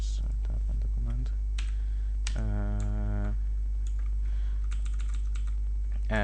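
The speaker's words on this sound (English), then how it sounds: "let's just type in the command" Computer keyboard keys click in short irregular bursts as a command is typed, over a constant low electrical hum. A voice briefly talks in the middle.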